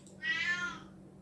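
A single cat meows once, a clear, mid-length rising and falling call heard fairly close over a quiet indoor background.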